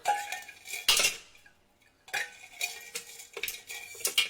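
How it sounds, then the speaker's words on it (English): Ice cubes fished out of a container for puff pastry clink and rattle against it in a few sharp bursts with short pauses, close and fairly loud, with no talk. "it's got 90 grams of ice cubes, which I'm going to try and fish them out of here"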